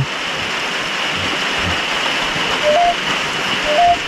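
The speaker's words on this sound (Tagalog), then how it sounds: "Umuulan na bro." Steady rain hisses down over Bagalangit cemetery in the Philippines, a constant wash of sound broken by two faint, brief bird chirps near the end.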